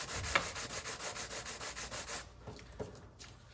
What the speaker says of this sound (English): the scraper on top of the sandpaper like that will help give you a sharp edge